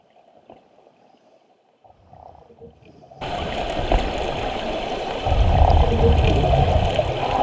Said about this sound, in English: it's just a short sequence that shows the rapids going overhead